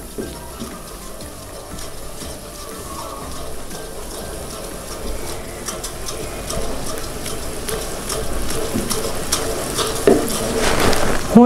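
Chicken Thai red curry with chicken powder being stirred and mixed in a pan, a steady wet scraping and sloshing that grows louder toward the end with a few sharper knocks, no voices.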